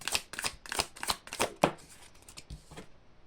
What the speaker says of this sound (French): Je vais tirer une autre carte.